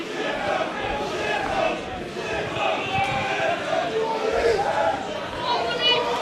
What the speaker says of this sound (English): The crowd are enjoying this